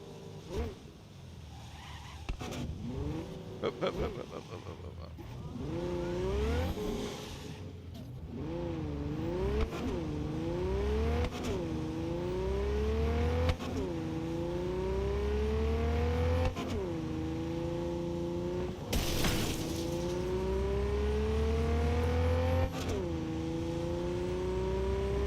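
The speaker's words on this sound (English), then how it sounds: "Gotta love the way this car sounds." A car engine in the video game Cyberpunk 2077 hums and revs steadily, its pitch climbing and dropping as it accelerates and shifts, with a low rumble underneath throughout.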